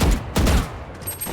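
Gunfire from a tactical shooter game, with a few heavy booming shots in quick succession, the first two loudest and then trailing off into quieter reports.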